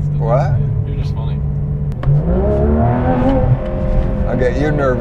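A Porsche 991.2 GT3 RS pulls hard at full throttle, its engine note rising and climbing through the revs close by, while people talk over the sustained roar.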